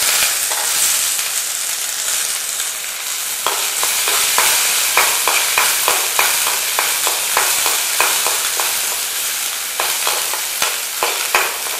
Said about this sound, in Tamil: அடுத்ததாக காஞ்ச மிளகாயை போட்டு சின்ன வெங்காயம்